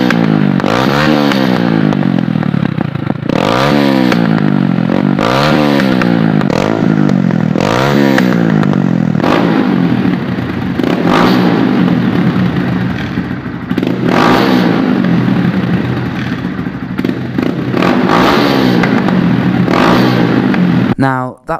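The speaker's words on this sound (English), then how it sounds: "It used to pop, it used to crack," A Honda GROM with a TYGA full stainless race exhaust and carbon can revs repeatedly, its loud engine climbing and dropping in quick bursts with crackling pops, while a person talks over it.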